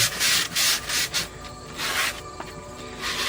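Worn 120-grit sandpaper rubs over a wooden bowl being restored, loud close scratchy strokes in rhythmic bursts, with no talking.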